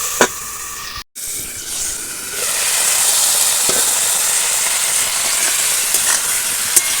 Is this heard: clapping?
no